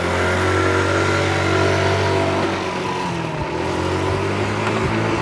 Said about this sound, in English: when you turn scooter engines on, they rev high and you want to wait to ride it until it drops lower